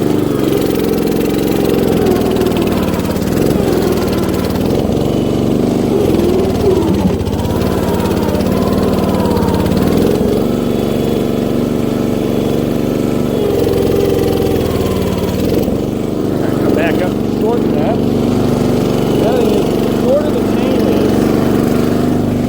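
A 1960s Terra Mite small tractor engine runs steadily close by, a constant mid-pitched drone with slight fluctuations, and voices may be talking beneath it.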